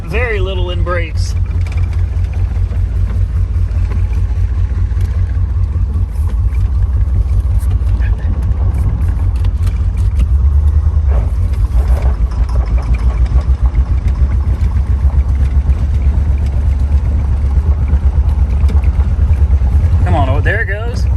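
An old Chevy Corvette recovered from a Florida swamp runs on its first drive, its engine droning steadily and loudly throughout, with voices heard briefly at the beginning and end.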